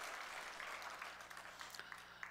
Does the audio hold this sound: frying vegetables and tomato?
no